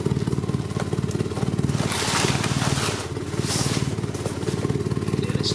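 Colt Lancer turbo EX2000 idling through a 2.5-inch stainless steel long-life exhaust, a steady low burbling pulse that stays even and close throughout with slight swells in level.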